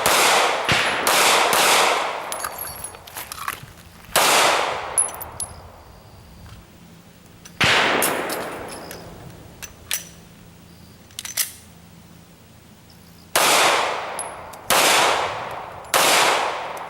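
Sharp gunshots from a shooting drill, fired from a magazine loaded with a random round count, in bursts of close, loud reports with ringing decay and long pauses between strings.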